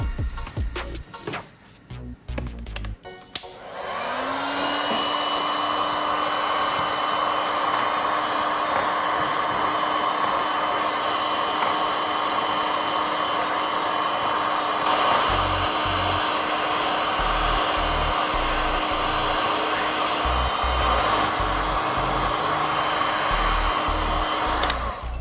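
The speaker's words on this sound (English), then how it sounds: "Now I'll use a heat gun to warm up the pipes." A heat gun softens plastic pipes, starting with clattering handling noise and then a loud, steady blowing roar with a constant whine that holds to the end.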